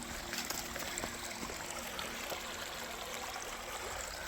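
A river flows beside a hiking trail in Red River Gorge, a steady, quiet rush and trickle of moving water with faint intermittent ticks, heard alone without talking.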